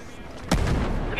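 A single loud gunshot burst from a firefight in the video game Ghost Recon Breakpoint, sharp and close, trailing into a sustained rumbling echo with faint voices beneath.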